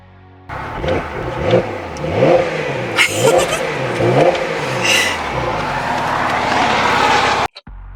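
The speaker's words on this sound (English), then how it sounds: "So you got sport exhaust on?" A Porsche with sport exhaust revs hard several times, the exhaust roaring and rising in pitch, then settles into a loud steady drone before cutting off.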